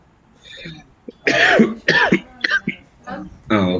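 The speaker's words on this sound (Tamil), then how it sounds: "அது இருமல் தான் கொஞ்சம் அப்படி இருந்தது." A person coughs several times in harsh, close bursts, with a few short vocal sounds between them.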